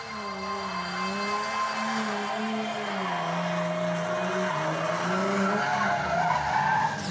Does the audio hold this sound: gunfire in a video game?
no